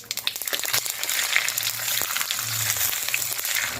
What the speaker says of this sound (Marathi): तेल तापलेलं आहे उडदाची डाळ परतून घ्यायची आहे